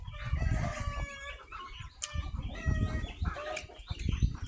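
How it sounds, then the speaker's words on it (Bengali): Chickens cluck busily and a rooster crows in a rural yard, several birds calling close by in overlapping bursts with no talk. "মুরগিগুলো সব ডাকতেছে।"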